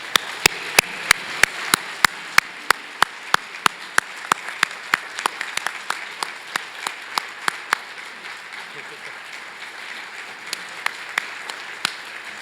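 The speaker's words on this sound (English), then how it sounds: "please join me in giving Bettina, my friend, a well-deserved and very enthusiastic round of applause" Enthusiastic audience applause at a utility's annual meeting, a soft steady wash of clapping beneath a series of sharp, evenly spaced clicks or taps that slow and thin out over time.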